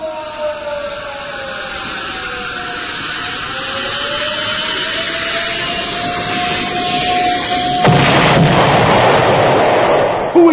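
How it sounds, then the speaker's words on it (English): Bombing in an audio drama: a long descending whistle of falling bombs gives way to a loud rumbling blast and crackling debris, then a sharp crack at the end. "Who is bombing Castle Despicable?"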